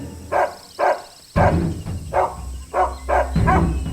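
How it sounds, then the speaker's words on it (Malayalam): A dog barks repeatedly in a steady series of about seven sharp barks, close and fairly loud, with a low background hum beneath. "ഇവനെന്തിനാ അങ്ങോട്ട് നോക്കി കുരയ്ക്കുന്നത്?"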